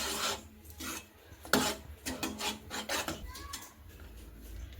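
Urad dal being stirred and mixed in a pot, with rough scraping and rubbing strokes in an irregular rhythm, close and moderately loud, with no talk.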